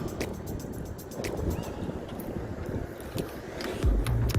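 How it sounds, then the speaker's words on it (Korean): Wind gusts across a lake during a bass fishing outing, buffeting the microphone with steady rumbling noise, water lapping and occasional knocks from the boat, growing heavier near the end. "오늘도 바람이 불어"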